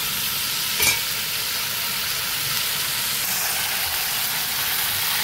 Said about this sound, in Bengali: এর মধ্যে দিয়ে দিচ্ছি আমি বেটে বাটা মশলাটা